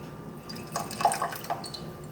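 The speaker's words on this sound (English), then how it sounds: "Now I'm going to rinse the leaves." Water briefly rinsing rolled Dong Ding oolong tea leaves, a soft trickle with light drips and splashes over quiet background hiss, lasting about two seconds.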